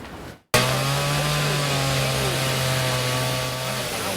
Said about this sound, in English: The person you're watching would usually use that chainsaw on a tree.